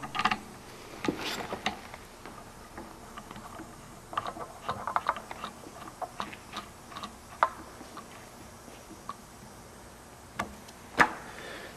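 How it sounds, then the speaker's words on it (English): A barrel being screwed back onto a dual wheel kit, with quiet clicking and ratcheting ticks in irregular bursts and a few sharper knocks, close and alone. "Screw our barrel back on. Screw our barrel in the bottom."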